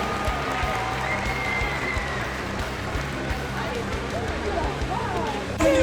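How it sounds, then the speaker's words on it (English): A crowd at a show jumping horse competition applauds steadily, sustained clapping with an announcer's voice talking over it at points. "Let's go ahead and give Charlie a round of applause"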